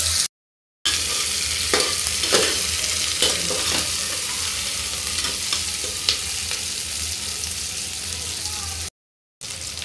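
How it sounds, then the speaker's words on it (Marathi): Onions fry in a pan toward golden brown, producing a dense, close sizzle with scraping stir strokes and light crackles, broken by two short silent gaps at the start and end. "कांदा चांगला सोनेरी रंगाचा होईपर्यंत भाजून घ्यायचा आहे"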